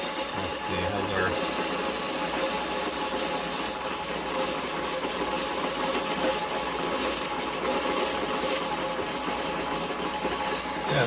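A Monolith Titan Flat coffee grinder runs at 650 RPM with a steady, loud, even whir throughout, holding a constant level without pauses.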